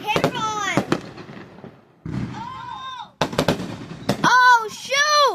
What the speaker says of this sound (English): Guys, go outside and see the fireworks. They're crazy.